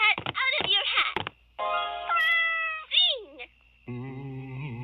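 A rainbow cat meows several times in quick succession, clear, close, drawn-out cries of changing pitch separated by short silences.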